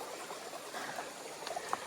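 Clear stream water flows past a riverside farm in Tagkawayan, a soft continuous babble with small splashes and trickles, fairly faint and close.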